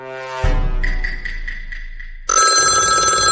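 A mobile phone rings unanswered with a loud electronic ringtone, a melodic pattern that repeats and then switches to a brighter, harsher tone near the end, heard on its own without talk.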